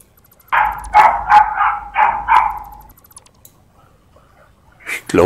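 A dog in a German co-op session of the factory game Satisfactory, set in a desert map, gives a quick run of about five loud, close barks and yips over roughly two and a half seconds, then falls quiet before a brief final sound.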